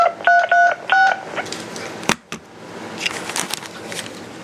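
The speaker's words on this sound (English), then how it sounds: "These do DTMF tones very well." A Motorola XTS5000 UHF handheld radio sends a rapid run of DTMF tone beeps, several short bright pairs in quick succession. A sharp click and faint handling noise follow.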